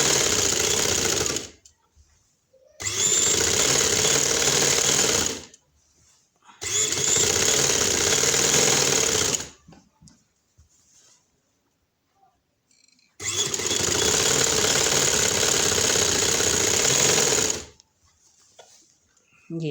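Sewing machine stitching a shalwar, running in four loud steady bursts of several seconds each, separated by quiet pauses, with no talk over the machine.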